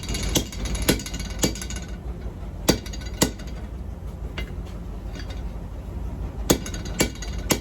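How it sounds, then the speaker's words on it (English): Sharp hammer blows drive a rivet into forged blacksmith tongs, ringing metallic strikes landing in irregular bursts, some in quick pairs and others after pauses, close and loud over a faint workshop background. "Drive that rivet in."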